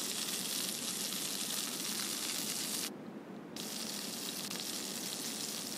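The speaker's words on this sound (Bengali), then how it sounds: "তো এক এক করে আমি সবগুলো ছেড়ে দিচ্ছি অয়েলের ভিতর।" Shrimp fry in hot oil in a pan, a dense, bright crackling sizzle that is close and continuous, dipping briefly midway before picking back up.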